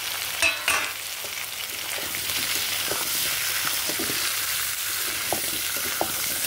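Carrots and papaya fry with meat and potatoes in a pan, hissing in a continuous sizzle with occasional light stirring knocks and a couple of sharper clatters at the start.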